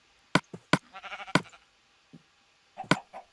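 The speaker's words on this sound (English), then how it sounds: "Hello, sheep." Sheep in the Minecraft video game bleat in short bursts, four or five clear, close calls with gaps between them and no talking over them.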